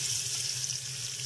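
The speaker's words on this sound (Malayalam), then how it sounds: "വെളിച്ചെണ്ണയിലാണ് റോസ്റ്റ് ചെയ്യുന്നത്. അതിലേക്ക് ആവശ്യത്തിനുള്ള കുറച്ച് ഉള്ളി" Onions fry in coconut oil, a faint, even hiss that holds steady for a brief moment with no voices.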